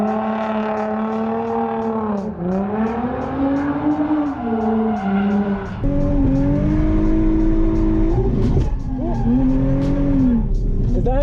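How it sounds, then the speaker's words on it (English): A car sliding through mat skids on a kart track, its tires squealing in long wavering tones over a steady engine drone, loud and close, with a few rough bursts of scrubbing. "We are going to do some mat skids."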